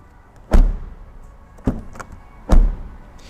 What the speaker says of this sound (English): Let's listen to the sound of the door.